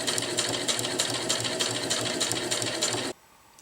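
Sewing machine top stitching a round zippered bag: a continuous, close, rhythmic whirring chatter of the needle running steadily for about three seconds, then stopping abruptly into near silence.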